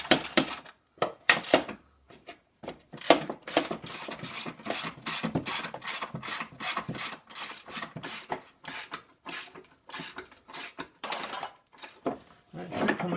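A ratchet clicks in fast, rhythmic bursts while it loosens the bolts under a Ford Focus motor mount, close and loud, with short pauses between strokes; someone talks briefly at times.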